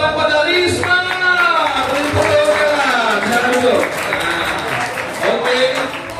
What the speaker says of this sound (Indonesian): Beri tepuk tangan pada Risma.